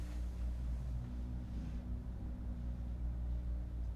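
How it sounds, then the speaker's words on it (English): A truck rumbles outside, a steady low engine drone that holds at an even level for the whole stretch with no voices over it. "It sounds like a truck"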